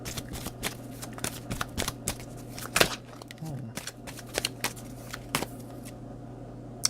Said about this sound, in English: I'm just shuffling here for a second.